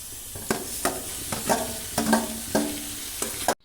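Onions and green chillies frying in oil: a steady sizzle broken by regular scraping stirs roughly every half second, close up, no voices.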